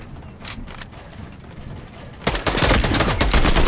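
A Combat Assault Rifle fires in Fortnite, scattered quieter shots at first and then a loud, dense burst of rapid gunfire close by.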